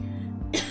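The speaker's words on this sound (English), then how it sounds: "Excuse my coughing intermittently tonight." A single sharp cough from a person with asthma, close and loud, bursting out at the end of a short stretch of low indoor hum.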